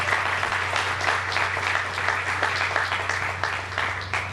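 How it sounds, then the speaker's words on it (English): A crowd applauding at a groundbreaking ceremony for the Raritan River Logistics Center, a dense steady wash of clapping that carries on without a break. "Let me give you a nice round of applause."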